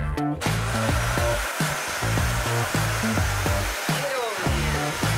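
A Dyson vacuum cleaner runs loud and close as a continuous roaring whoosh, with a low tonal rumble that shifts and stutters as the intake pulls and releases.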